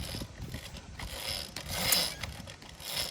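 A worn-out pocket bike's small engine bogs down under load, producing an uneven, sputtering low mechanical rumble with rattling and chattering, heard nearby for a few seconds without talk.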